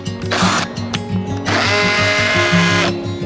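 An old corded plug-in electric drill whirs loudly and close in short bursts, its motor pitch rising and falling as it starts, stops and spins up again.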